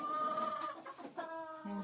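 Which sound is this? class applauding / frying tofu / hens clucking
hens clucking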